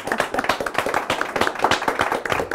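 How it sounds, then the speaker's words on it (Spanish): Audience in a room claps steadily at a scholarship award ceremony, a sustained, fairly close burst of many hands with no talking. "Un aplauso."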